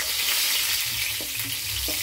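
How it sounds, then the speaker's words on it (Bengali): Fennel seeds and slit green chillies sizzling in hot oil left from frying fish, a steady close crackling hiss with a few soft stirring knocks. "এবার ওই মাছ ভাজার তেলেই দেবো একটু মৌরি ফোড়নে।"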